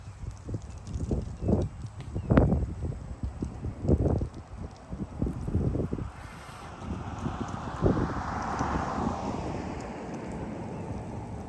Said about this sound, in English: That's a lot of wind